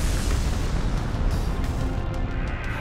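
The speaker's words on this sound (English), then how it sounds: "Tail Beast Bomb!" A Tail Beast Bomb explodes in Naruto Storm 4, a dense, loud, rumbling blast that roars continuously with heavy low-end booms and crackling debris across the whole stretch.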